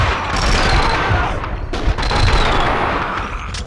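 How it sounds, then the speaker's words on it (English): Gunfire in the video game Max Payne 2, a dense, loud burst of rapid shots and echoing bangs rolling continuously through the whole moment. "Someone must have heard the gunfire."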